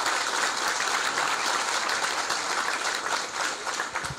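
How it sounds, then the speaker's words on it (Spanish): Strong, steady applause from a crowd at a political party event swearing in a technical commission, a dense, even wash of clapping from many hands with no speech. "Te pido un fuerte aplauso."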